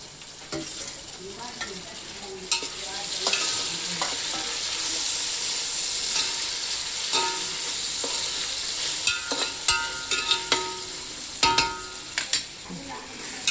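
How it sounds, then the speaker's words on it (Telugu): Four chopped tomatoes frying with well-browned onions in a pan for prawn dum biryani, a steady bright sizzle with scattered pops and stirring scrapes, close and continuous, no voices. "నెక్స్ట్ బాగా వేగిన ఉల్లిపాయల్లోకి ఒక 4 టమాటాస్ కట్ చేసుకొని వేసుకుంటున్నాం"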